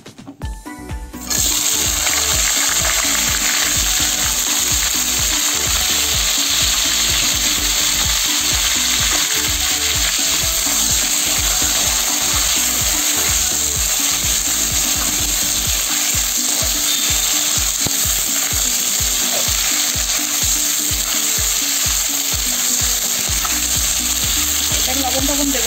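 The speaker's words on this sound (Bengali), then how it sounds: "এই যে এই তেলেই আমি বেগুন ভেজে নেব" Eggplant pieces fry loudly in hot oil, a strong continuous sizzle with rhythmic stirring scrapes throughout, close and steady after a brief quiet start.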